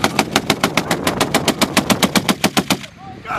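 A machine gun fires a fast, evenly spaced string of about fifteen loud, close rounds during a live fire exercise by U.S., Royal Thai and Republic of Korea Marines, then stops abruptly.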